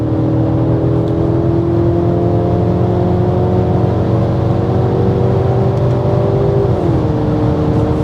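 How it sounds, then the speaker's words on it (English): A 2024 Mercedes-Benz E-Class W214 hybrid accelerates at full throttle on the Autobahn, its engine note climbing in a smooth continuous whine under steady road and wind roar, heard from inside the cabin. "Let's give it full throttle here."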